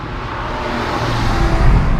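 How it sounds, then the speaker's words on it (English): Tire and road noise inside the cabin of a 2006 Porsche 997 Carrera S with its flat-six: a steady, loud, low rumble and broadband roar that rises slightly toward the end, with no voices. "There's a little bit of road noise from the tires"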